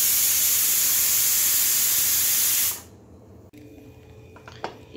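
Pressure cooker on the stove cooking vegetable pulao, releasing a loud, steady hiss of escaping steam that cuts off abruptly partway through, leaving quiet kitchen background with a faint thump.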